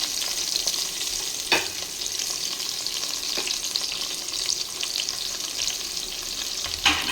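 Onions fry with biryani masala for kushka, a steady soft sizzle and crackle with a few louder stirring clinks, close up and without talk.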